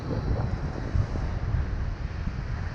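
Strong outdoor wind buffets the microphone in a continuous low roar with gusty surges, close and rough, while a kite is being flown.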